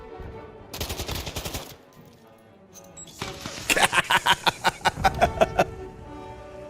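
Automatic gunfire from the video game Call of Duty: Modern Warfare 2 rattles in two loud rapid bursts, a shorter one early and a longer, punchier one later, over faint background game sound.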